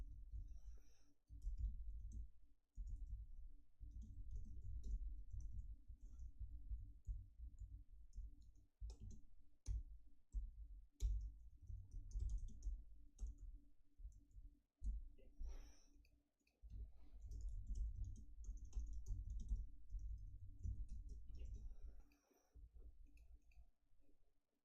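Computer keyboard keys clatter in steady bursts while C++ code is typed on a Windows machine, close and fairly loud, with brief pauses between runs of keystrokes.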